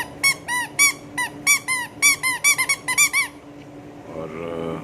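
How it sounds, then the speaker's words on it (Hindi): A squeaker in the heel of a soft baby slipper being pressed repeatedly, giving a rapid run of sharp chirping squeaks close by, then a softer airy wheeze. "बेल सी लगाई है जो कि पाँव प्रेस करेंगे तो आवाज़ आएगी"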